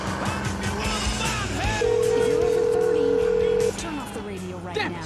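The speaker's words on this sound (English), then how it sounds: "Pick up the phone, Sweet." A phone rings with a steady electronic tone during gameplay in GTA San Andreas, heard over continuous game ambience, engine noise and talk.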